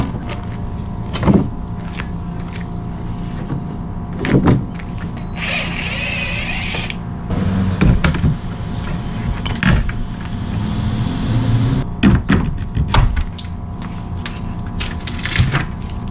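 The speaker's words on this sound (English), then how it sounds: "then we'll pull the rest of this old door out and try the new one" Old exterior door being pried and pulled out of its frame in a fixer-upper house: repeated creaks, cracks and scraping thuds at irregular intervals, with a sustained grinding stretch in the middle, loud and close.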